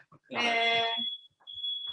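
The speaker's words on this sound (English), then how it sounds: "Fire alarm." A fire alarm goes off in a home kitchen, a loud, steady electronic tone that sounds for about a second, breaks off briefly and then sounds again.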